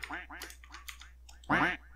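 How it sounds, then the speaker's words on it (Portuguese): Ducks in the video game Minecraft quack several times in short bursts, with a louder quack near the end over quiet game ambience. "Só os patos."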